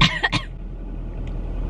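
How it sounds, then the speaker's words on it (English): Two quick, close coughs in a row, followed by quiet room noise. "She's got a cough."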